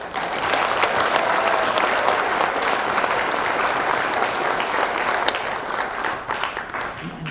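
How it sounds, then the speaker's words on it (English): Steady, loud applause from a large audience, sustained clapping with no pauses that tapers slightly toward the end. "So clap your hand for that."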